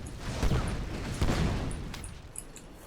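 Fireball spells from the pyromancer class in the video game Spellbreak explode on a training dummy, two dull booming impacts about a second apart, followed by fainter crackles.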